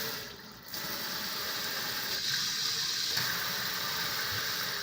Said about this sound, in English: I open the water